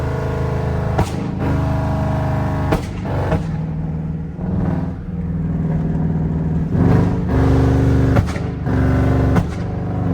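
A 5.7 Jeep V8 with a flame-throwing exhaust revs hard at night in a residential area, giving loud, deep throaty blasts in repeated bursts with sharp pops and crackles between them.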